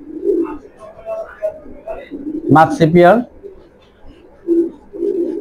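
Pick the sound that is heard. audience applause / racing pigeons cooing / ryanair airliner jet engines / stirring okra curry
racing pigeons cooing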